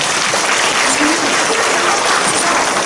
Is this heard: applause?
yes